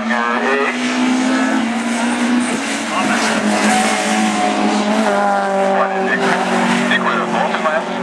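A Citroën AX rallycross car races at Ring Djursland, engine howling at high revs with shifting pitch and tyre squeal, loud and continuous under a commentator's voice.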